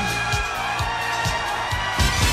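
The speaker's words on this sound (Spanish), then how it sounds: "El aplauso bien fuerte para Alejandro Chaván." Crowd cheering and applause for boxer Alejandro Chabán at a Caracas fight event, steady dense noise with rhythmic low thumps, a loud swell of cheers near the end.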